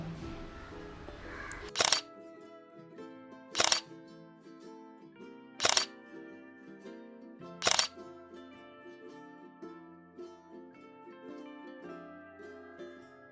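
A camera shooting in manual mode fires its shutter four times, each a sharp click about two seconds apart, over soft background music with no speech.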